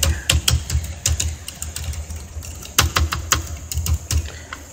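Keys pressed on a non-original replacement keyboard of an Asus X454Y laptop, faulty with none of the keys responding: close, crisp plastic clicks in quick irregular bursts, pausing briefly midway, with no talking.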